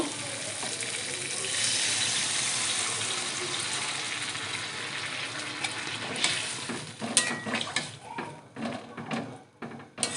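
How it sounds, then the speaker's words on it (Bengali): Water pours into a pan of sizzling, spiced eggplant and hilsa fish curry. A steady frying hiss fills the first part, then splashing, bubbling bursts take over near the end, with no talking. "কষানো হয়ে গেছে, ভালো করে জল দিয়ে দেব।"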